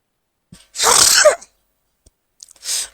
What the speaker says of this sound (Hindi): बहुत बढ़िया छींक आया मुझे